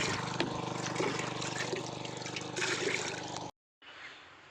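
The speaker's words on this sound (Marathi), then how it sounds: "आता टाकतो यात पाणी 10 लिटर, 10 पंपाचं तयार." Water is poured steadily into a pesticide sprayer pump tank, about ten litres, to mix a spray for diseased cotton. The close, continuous splashing trickle runs for a few seconds, then stops abruptly before faint background sound returns.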